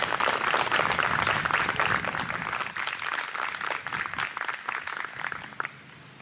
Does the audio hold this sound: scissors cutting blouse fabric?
no